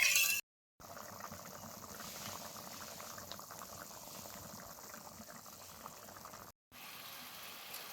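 Green papaya chutney simmers in a pan until its liquid dries off, making a soft, continuous bubbling and sizzling that stays faint and close, broken by two brief silent gaps, with no talking.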